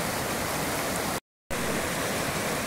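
A river near Dehradun flows in a steady, dense rush of water, loud and continuous, broken once by a brief silent cut, with no voices.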